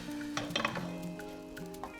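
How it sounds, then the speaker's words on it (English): Pepper frying in a covered pot for efo riro, a Nigerian vegetable stew, giving a steady close sizzle with a few faint clinks of cookware. "So we're waiting for the pepper to fry."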